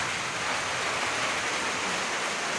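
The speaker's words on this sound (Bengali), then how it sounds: "এই যে বৃষ্টি আর এই বৃষ্টি" Steady, even rain falls all around a village home in a dense wash of sound, with no pauses and no voices.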